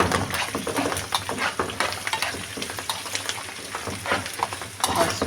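Curry leaves crackle and sizzle in hot oil, a dense, steady frying hiss close by with occasional stirring scrapes of a utensil against the pan, and no voices.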